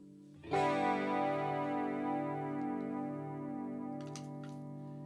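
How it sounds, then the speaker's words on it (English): A sustained guitar note swells in with a shimmering, wavering chorus effect, ringing on for several seconds before a couple of soft clicks near the end. "And then this makes the chorus sound."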